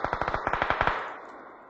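Automatic M4 rifle fire in the PUBG battlegrounds game: a rapid burst of about ten sharp, evenly spaced shots, loud and close, ending in a brief fading echo.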